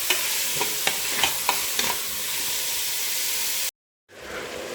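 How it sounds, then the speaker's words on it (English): Meat frying with onion in a pan for lasagne: a steady hiss of sizzling with a few light stirring knocks, cut off by a brief silence before the sizzle resumes more faintly. "you have to fry the meat with the onion."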